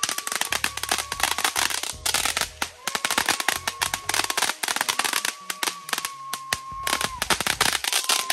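Fourth of July backyard fireworks, a 16-shot cake, fire rapid crackling bursts and sharp pops into the sky, loud and close, with whistling rises between shots and people talking and cheering underneath.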